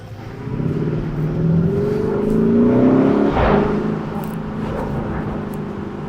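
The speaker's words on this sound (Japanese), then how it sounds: "なんかちょっとブルってるもん車がブルブルブルみたいな" A deep Lamborghini Urus engine rumbles and vibrates steadily, its pitch climbing slightly as it revs, then settling back into a throaty idle.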